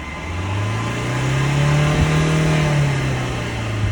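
A 2019 Hyundai Venue engine with about 115,000 km on it, revved hard with the accelerator pressed: a loud, close rise in pitch that holds high and then eases, with no voices.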